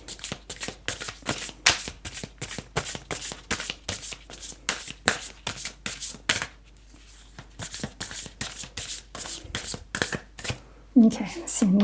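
A tarot card deck is shuffled by hand in a long run of crisp, rapid riffling bursts, close and clear, with a brief pause midway and a little voice sound near the end.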